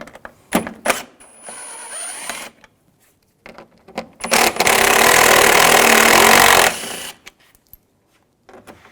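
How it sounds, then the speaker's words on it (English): A ratchet with a T30 socket backs out the upper front bumper screws on a 2006-2010 BMW 550i, giving sparse close clicks and then a long, dense whir of fast ratcheting before stopping. "We're going to take these screws off up top. I'm going to use a T30 socket."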